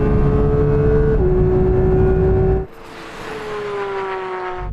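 Porsche 911 GT3 and BMW M4 CSL accelerating hard in second gear from a 40 mph roll-on, a loud rising engine howl that shifts pitch at an upshift, then drops away abruptly as a second, fainter engine note climbs steadily.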